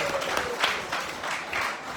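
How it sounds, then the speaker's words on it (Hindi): An audience at a devotional storytelling gathering bursts into loud, sustained applause, a steady wash of many hands clapping close by for a couple of seconds. "तो हमारे मिश्रा जी के लिए जोरदार ताली।"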